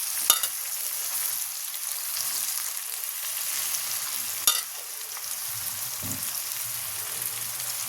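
Small pedi fish fry in hot oil, a steady, loud hiss and crackle that runs the whole time, with a couple of sharp pops and a brief low clatter.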